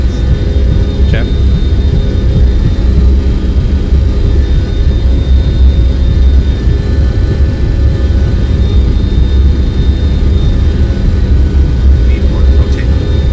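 Boeing 727-200F jet engines roar in a flight simulator during the takeoff roll, a loud, constant low rumble filling the whole stretch, with faint cockpit sounds on top.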